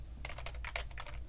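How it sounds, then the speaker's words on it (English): An old, dirty Mac computer keyboard that sat in a garage is handled for cleaning, its plastic keys giving a quick run of close, crisp clicks and clacks in an irregular burst, with no voices. "In today's video we are going to clean another keyboard."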